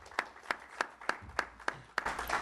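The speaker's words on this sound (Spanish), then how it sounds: "Vamos a darle un aplauso al maestro Hernández." An audience applauds a teacher, heard as a short run of seven evenly spaced, distinct claps, fairly close and quiet, with a slightly fuller clap at the end.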